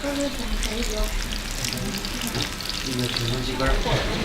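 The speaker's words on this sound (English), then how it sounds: "frying them up in this big, huge fryer right here" Loud, dense bubbling hiss of buns deep frying in a big fryer at a street food stall in Xi'an, China, with indistinct voices and kitchen noise underneath.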